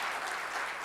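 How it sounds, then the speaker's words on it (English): A crowd at a product launch event in Bengaluru gives a brief round of applause for an agricultural scientist, heard as a faint, continuous hiss of many hands clapping together with no distinct single claps. "Can we please have a round of applause for sir?"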